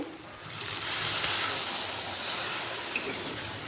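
Water poured into a sizzling katla fish curry masala with fried potatoes, giving a loud, steady steamy hiss and spray that swells and holds for several seconds without pause.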